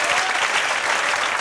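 An audience claps loudly and steadily in a dense burst of applause that fills the whole moment, with no voices standing out.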